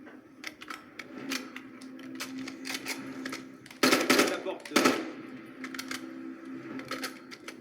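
Rapid bursts of automatic gunfire in Call of Duty Modern Warfare III, sharp repeated cracks with two louder volleys in the middle, under a background of game sound and occasional talk.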